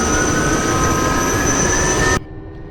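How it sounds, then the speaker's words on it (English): A Gazelle helicopter spinning up its engine and rotors in DCS, a loud steady turbine whine with a rushing drone that cuts off abruptly near the end. "we can see our rotors now are starting up"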